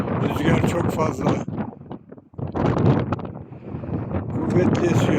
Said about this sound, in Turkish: Kuvvetli esiyor.